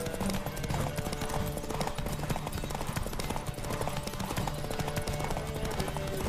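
Rapid, rhythmic clip-clop of galloping horse hooves during a horse race in The Witcher 3: Wild Hunt, continuous and fairly quiet, with a busy game-like background mix.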